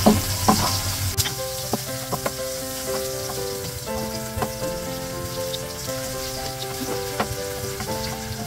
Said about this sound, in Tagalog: Babakuhin ko muna yung bawang natin.